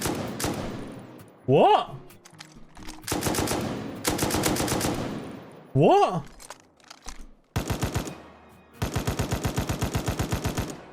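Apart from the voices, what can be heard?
SAR rifle with muzzle brake firing in the video game Rust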